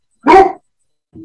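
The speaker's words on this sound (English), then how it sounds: "we've had a delivery, and my dogs are freaking out" A pet dog barks loudly once at a home delivery, close by, then after a short pause gives a softer, lower bark or whimper.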